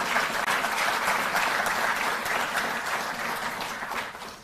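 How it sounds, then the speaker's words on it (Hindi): Sustained applause from an audience at a Delhi government ceremony honouring national athletes, a dense, steady wash of clapping holding at even loudness for several seconds before easing slightly at the end. "जोरदार तालियां।"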